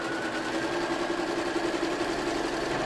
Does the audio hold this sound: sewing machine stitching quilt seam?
yes